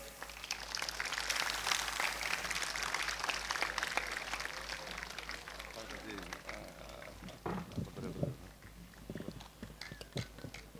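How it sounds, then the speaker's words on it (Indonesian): A crowd claps at a Pramuka Day scout ceremony and branch jamboree opening in Bojonegoro. The steady, dense applause is loud at first, then thins into scattered claps as a voice speaks. "Beri tepuk tangan yang meriah"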